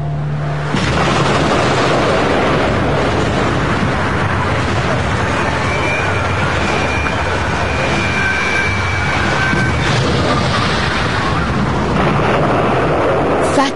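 The Fat Man atomic bomb explosion: a loud, sustained roaring rumble that fills the whole stretch without letup, dense and heavy, with no voices.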